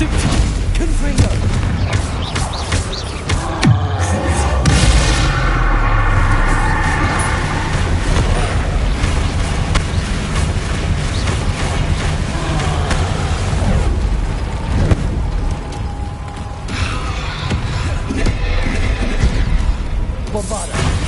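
Bombarda and Confringo spells in Hogwarts Legacy set off dense, continuous explosive booms and blasts amid loud game combat noise, with voices shouting over the racket throughout.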